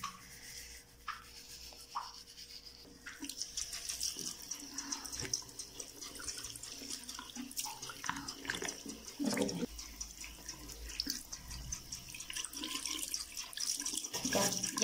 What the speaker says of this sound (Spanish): enjuagar el cepillo.